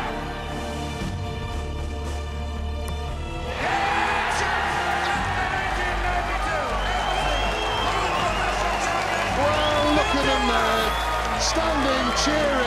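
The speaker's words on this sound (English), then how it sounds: "Standing, cheering." A Lakeside darts final crowd rising to its feet and cheering, a sudden swell of roaring, whooping and clapping that stays loud, with a commentator talking over it.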